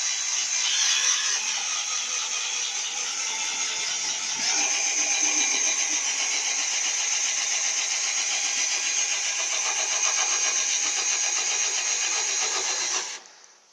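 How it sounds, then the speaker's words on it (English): A small 12-volt cordless drill runs in reverse while lowering a slide-on camper's legs, a steady whining motor that holds for about thirteen seconds before stopping abruptly. "Now this is only a little 12-volt drill."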